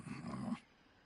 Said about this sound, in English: Snake, it looks like they've got attack dogs in that area.